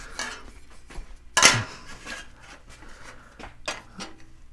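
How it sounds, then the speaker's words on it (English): A metal toe board pan for a 1949 Plymouth is handled in a shop, with a sharp metallic clatter partway through and a few lighter bumps and scrapes around it. "I'll bring the pan back over here"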